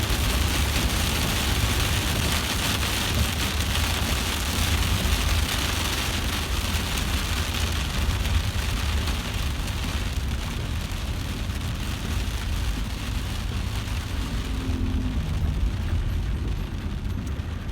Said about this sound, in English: But look at this rain.